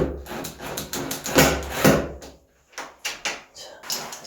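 A screw is driven back into a loosened door-handle hole packed with broken matchsticks. It gives a series of scraping, knocking wooden bursts, with a short pause midway before more twisting scrapes.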